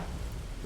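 Rain from a thunderstorm in the video game Terra Nil, a steady dense patter with a low rumbling undertone, brief and continuous with no voices.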